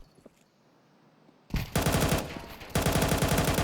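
Mac-10 and Galil automatic fire rattles in a Counter-Strike match on the Nuke map, a quiet lead-in giving way to two loud sustained bursts of rapid shots.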